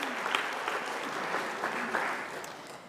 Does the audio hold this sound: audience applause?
yes